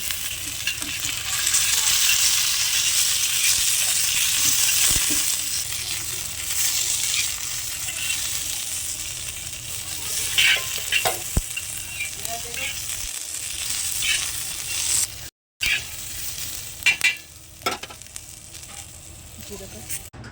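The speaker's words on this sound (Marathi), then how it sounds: "हा लोखंडी तवा घेतलेला आहे मी तर याच्यावरती मी थोडं तेल टाकून भाजून घेणार आहे मिरच्या" Green chillies roasting in a little oil on an iron tawa: a loud, steady sizzle with occasional scraping and clinking of a spatula, close by, thinning toward the end.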